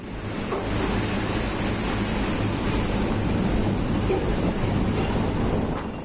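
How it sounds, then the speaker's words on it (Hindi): Huge cyclone-driven sea waves battering a large tugboat during Cyclone Yaas, recorded from inside the vessel, a dense unbroken roar of surf and wind that stays loud and steady throughout. "समंदर की लहरों के आगे बड़ा सा टगबोट कागज की नाव की तरह लग रहा है।"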